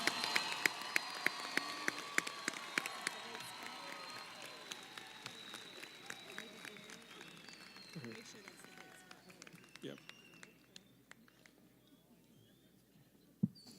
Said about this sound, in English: let's give another round of applause for our associate or certificate holders